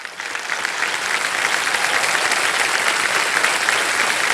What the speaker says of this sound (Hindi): सर, कुछ तालियां बज जाए इनके लिए